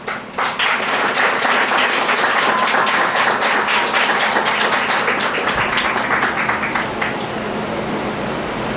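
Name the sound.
wedding guests applause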